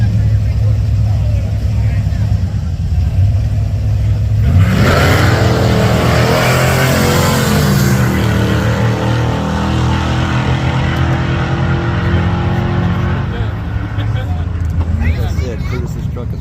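A black 1980s–90s Chevy LUV pickup on a drag strip at Coos Bay, Oregon, launches and accelerates hard, its engine rising loud and close before roaring off, with crowd and track noise throughout.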